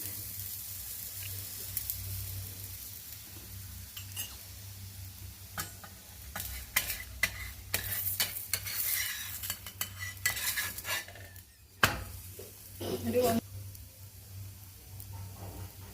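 Stuffed potato flatbread on a griddle as oil goes on around it, faint low sizzling under intermittent scraping and clinks of a spoon or spatula, no talk.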